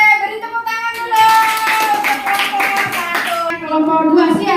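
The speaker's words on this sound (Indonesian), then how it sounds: "Oke, beri tepuk tangan dulu" A classroom of young primary pupils claps together after a group presentation, with a burst of hand claps rising and falling over a few seconds while children's voices call and chatter alongside.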